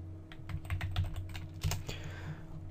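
Keys clatter on a computer keyboard while spline names are typed into 3ds Max, a quick run of distinct close taps over a low steady hum, with no talking.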